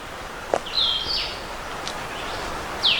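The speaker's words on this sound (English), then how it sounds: "Got the birds singing." Birds in piney woods along a trail at Worlds End State Park, Pennsylvania, give high chirps and short whistled phrases at a few scattered moments over a steady hiss of forest ambience.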